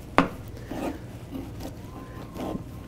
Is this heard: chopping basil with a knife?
yes